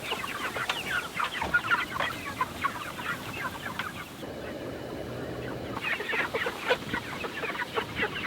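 Flock of Cornish Cross meat chickens in a backyard setting, clucking continuously with overlapping calls, close and steady with no talk.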